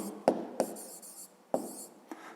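Pen writing an answer in a notebook: a few short, quiet scratching strokes and taps on paper, close and alone, with pauses between them.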